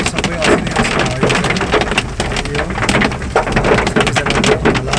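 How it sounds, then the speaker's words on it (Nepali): Heavy rain with hail pounds the ground on a road in Palpa, a dense, steady roar of drops and sharp pellet hits close by, with no voices over it. "आज मिति 2082 साल 12 महिना आज 2 गतेको दिन यति धेरै पानी परेको छ कि यति पानी परेको छ"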